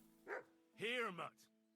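A dog in Kingdom Come: Deliverance II gives two short, close barks, the second longer and yelping, with faint background hum between them.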